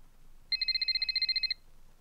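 A telephone rings in the horror movie The Strangers, giving one sustained burst of rapid, evenly pulsed electronic trills that lasts about a second over a quiet, faint background.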